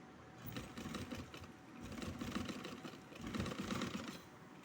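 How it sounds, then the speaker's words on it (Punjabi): A sewing machine stitching gum lace along a fabric edge, a continuous close mechanical whirring chatter that swells and eases slightly as it runs, fairly quiet with no voices. "ਇਹ ਸਿੱਧੇ ਪਾਸੇ ਰੱਖ ਕੇ ਇਸ ਤਰ੍ਹਾਂ ਸਲਾਈ ਲੱਗੂਗੀ ਜੀ ਕੋਨੇ ਕੋਨੇ ਤੇ"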